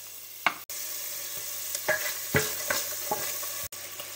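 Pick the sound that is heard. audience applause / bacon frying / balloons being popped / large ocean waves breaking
bacon frying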